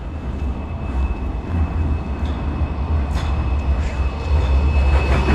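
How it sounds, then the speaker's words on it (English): A tram rolls past on a city street in Miskolc, Hungary, a loud, steady rumble of wheels on rail with a faint high whine running through it, growing slightly stronger toward the end. "And there comes the tram once more."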